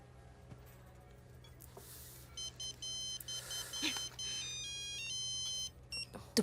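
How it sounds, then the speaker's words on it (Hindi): A phone ringtone in a Hindi action film scene, a repeating electronic melody of bright beeping tones that starts faintly, then rings steadily and clearly over a low hum. "तुम्हारी माँ का फोन है।"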